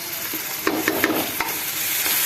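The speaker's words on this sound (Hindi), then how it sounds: "अच्छे तरीके से प्याज को सुनहरा करेंगे। लहसुन ऐड करेंगे।" Onions and garlic fry in a pan for mutton pulao with a dense, steady hiss, as a few soft stirring knocks come briefly in the middle.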